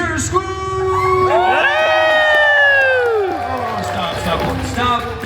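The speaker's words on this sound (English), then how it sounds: "Stop the pity applause" A live crowd at a Deadpool holiday storytime show at Disneyland California Adventure cheers and whoops loudly, with a theatrical voice declaiming over the noise and shouts rising and falling throughout.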